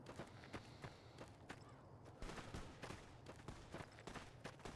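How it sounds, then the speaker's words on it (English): Gunfire in the video game Fallout: New Vegas: a run of sharp, irregular shots cracking out one after another over a dense, rumbling game soundscape, with no talking. "I hear gunshots"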